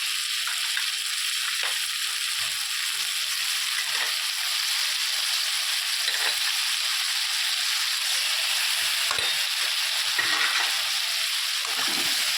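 Eggplant and potato fry with turmeric, salt and spices in a pan, giving a steady close hiss of sizzling oil with occasional soft stirring scrapes, unbroken and without speech.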